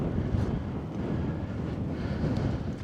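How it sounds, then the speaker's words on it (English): Wind gusts buffet the microphone with a constant low rumble and rushing noise, steady throughout with no talking. "Well, it's a bit windy."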